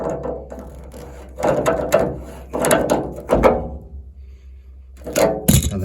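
A radiator valve is tightened back up by hand, giving a run of close, dry ratcheting clicks and mechanical ticks in several bursts with short pauses between them.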